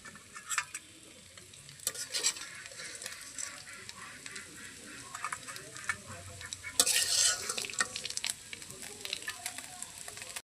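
Fish-oil fritters frying in oil in a pan on a clay stove, a low continuous sizzle broken by scrapes and stirring clatter, with a louder burst of crackling partway through.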